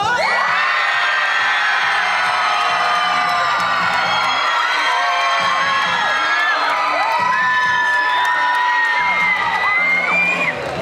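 A packed convention hall audience at a Japan Mania cosplay contest cheers for a contestant, a loud continuous roar of shouts, whoops and high-pitched screams sustained for about ten seconds.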